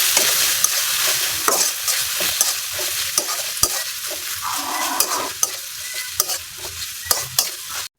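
Ginger, cumin and onion-garlic paste frying in a pan for khichuri with beef and rice, a loud continuous sizzle broken by repeated spatula stirring and scraping clicks, close and alone.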